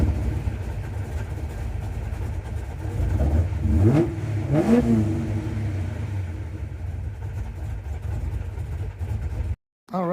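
A car engine fires up after a fuel pump repair, rising in two quick revs around the middle, then settling into a steady idle with faint voices nearby.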